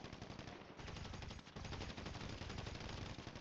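Rapid automatic gunfire in a PvP shooter game, a dense continuous burst of shots with a brief dip midway, loud and without talk.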